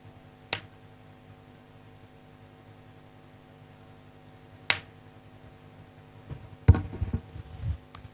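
Sharp claps from a performer during a mentalist stage act, three isolated hits spaced a few seconds apart over a quiet hum, the last followed by a brief cluster of rustling handling noise.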